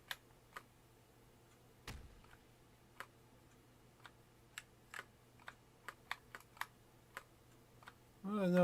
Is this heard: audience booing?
no